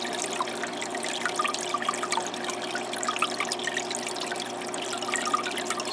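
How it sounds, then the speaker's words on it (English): Small aquarium waterfall in a red clawed crab tank, a steady, continuous trickle of falling water with a fine, even splashing texture, close and moderately loud throughout with no talk over it. "I want to actually get the water to come further out before it falls."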